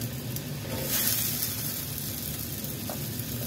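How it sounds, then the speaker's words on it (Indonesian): Water at a rolling boil with cut green beans gives a soft, continuous bubbling hiss with small pops, close and moderately quiet. "setelah ini airnya mendidih teman-teman, kita rebus dulu buncisnya yang sudah kita potong-potong tadi"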